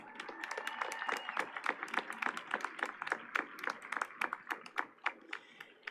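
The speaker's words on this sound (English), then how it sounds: "Give yourself a round of applause." Graduates and the crowd at a high school graduation ceremony give a round of applause, a steady patter of many individual claps, fairly distant, growing more scattered and uneven as it goes on.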